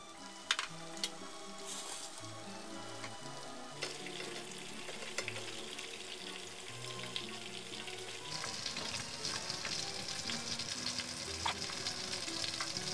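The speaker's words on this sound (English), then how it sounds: "The meatballs are fried" Meatballs fry in a pan for an Italian dish, giving a steady, close sizzle that runs unbroken throughout with crackles and small pops and no talking.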